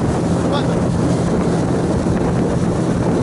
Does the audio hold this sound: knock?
no